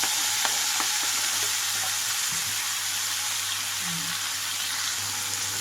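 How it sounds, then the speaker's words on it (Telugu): Chopped tomato and radish tossed into a hot pan while making radish chutney, a loud, steady frying sizzle with a few stirring clacks early on, close and continuous with no voices. "ఇప్పుడు ఇందులోనే కట్ చేసి పెట్టుకున్న టమాటా అలాగే ముల్లంగి కూడా వేసేసుకుంటున్నాను"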